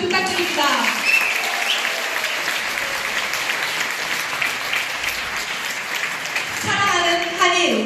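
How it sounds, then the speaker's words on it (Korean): A university-hall audience applauds Electone organist Matsueda Rumi in a dense, sustained roar of clapping. Voices can be heard briefly at the start and near the end. "특별한 시간을 만들어주신 마치에다 루미 선생님께 다시 한번 큰 박수 부탁드립니다"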